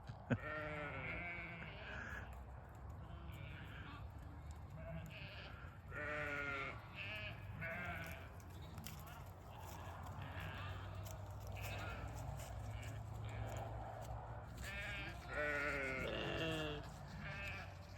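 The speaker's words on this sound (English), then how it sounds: "Come on, sheep!" Sheep named Freckles, Stella and Peanut bleat repeatedly at close range on a farm, several overlapping wavering calls spread through the scene over a low background rumble, with a person calling to them now and then.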